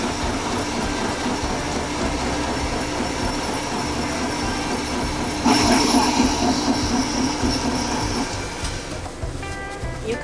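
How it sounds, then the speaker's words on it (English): An ice shaving machine in a snow cone truck shaves ice with a continuous loud mechanical grinding whir that swells partway through, then shifts toward the end. "So we're gonna start by just shaving that ice."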